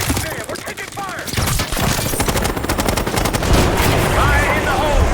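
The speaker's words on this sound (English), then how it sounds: "we're taking fire!" Dense automatic and burst gunfire from a Call of Duty: Black Ops 6 campaign battle, rapid cracks layered into a loud, continuous fusillade with background voices mixed in.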